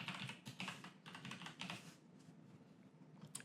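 Quick, quiet typing on a computer keyboard in a Windows 11 setup, a rapid flurry of light keystrokes that thins out toward the end.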